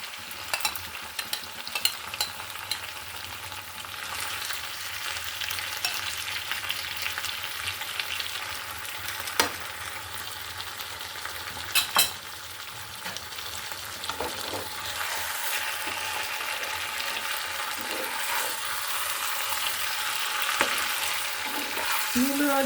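A large fish frying with radish in a pan, giving a steady, dense sizzle of hot oil that runs throughout, with a few sharp utensil knocks and scrapes scattered on top.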